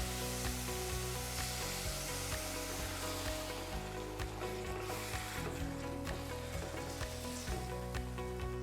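Beef frying with curry powder in a pot, sizzling loudly and continuously while being stirred, with occasional scraping and clinks over the dense crackle.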